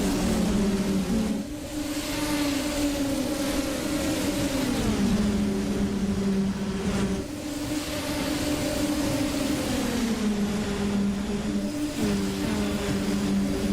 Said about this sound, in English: Turn up the sound of the Indy NXT machines here at Iowa.